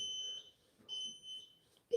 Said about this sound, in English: No, this beep, beep, beep is already disturbing.